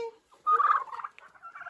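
A white turkey gobbles in a farmyard, a loud, close burst of warbling calls lasting about a second, heard alone with no talk over it.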